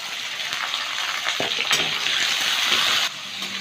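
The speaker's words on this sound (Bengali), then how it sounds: "বিনস আর গাজরটা একটু ভেজে নেব" Chopped carrots and beans with a little ginger fry in a pan, a steady, fairly loud sizzle that holds throughout, with a few faint clicks of stirring before it drops off slightly near the end.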